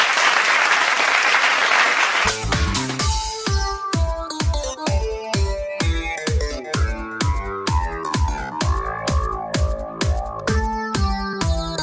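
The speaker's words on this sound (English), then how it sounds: "Come on, Mumbai, we can be much more gracious with that applause." Applause swells from the audience at a health and wellness marketing awards ceremony in Mumbai, a loud dense patter for about two seconds before rhythmic music with a strong beat takes over.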